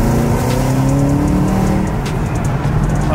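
A Chevrolet Camaro ZL1 1LE accelerates on a wet road in the rain, its engine roaring loud and steady with rising pitch and a constant wash of tire and water noise.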